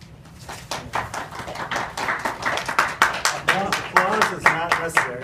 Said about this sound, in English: Applause is not necessary.